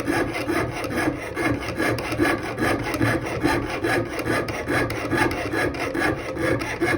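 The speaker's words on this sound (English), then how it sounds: "Now, as I'm sawing, I'm turning my metal." A jeweler's saw rasps through metal in quick, even back-and-forth strokes, close and steady, with no voices.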